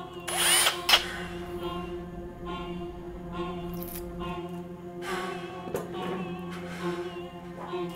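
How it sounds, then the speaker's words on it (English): A power drill runs steadily throughout at close range, with a brief burst of louder high whine near the start and a second surge later, amid a tense horror-film scene. "What about my drill?"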